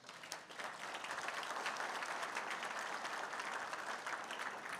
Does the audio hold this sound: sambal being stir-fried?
no